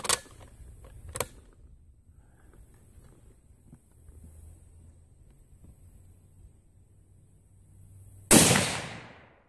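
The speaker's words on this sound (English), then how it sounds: "I'm going to shoot one of them and see what happens." A .308 Remington 722 rifle fired once while sighting in with steel-case ammunition, a sharp loud close gunshot near the end after two fainter snaps and a quiet stretch.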